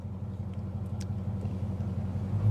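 A tuned 1100 hp Dodge Demon 170 idles with a steady, deep, throaty rumble, close and continuous, swelling slightly toward the end with no talking over it.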